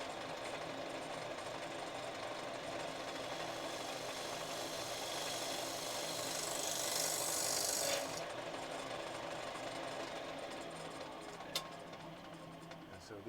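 A woodturning lathe makes a light cut that pulls thin wood shavings, producing a continuous close rasping hiss that swells briefly before settling.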